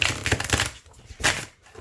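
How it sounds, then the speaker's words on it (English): Rapid riffle shuffles of a deck of playing cards, two quick bursts of fluttering card snaps close to the microphone, with a short quiet gap between them. "this deck riffle shuffles wonderfully, and it bridges back together nicely"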